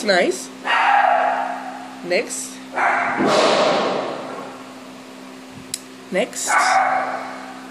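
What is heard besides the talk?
dog barking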